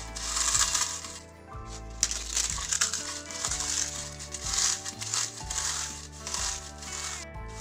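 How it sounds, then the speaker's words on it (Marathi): Dry papad crushed by hand into fine crumbs in a kitchen, a steady run of close, crisp crackling and crinkling snaps over a faint low hum, with no talking. "आता हे पापड आपल्याला एकदम बारीक चिरून घ्यायचे आहे. असा बारीक चुरा करून घ्यायचा आहे आपल्याला."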